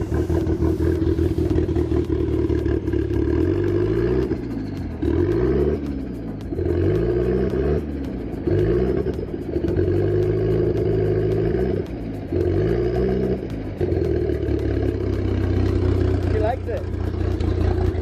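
A freshly rebuilt turbocharged engine in a second-generation Mitsubishi Eclipse idles steadily and close by, with a low, even rumble and a surging rise and fall. People talk over it throughout.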